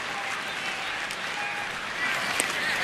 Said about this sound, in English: Crowd starting to pick up a few claps here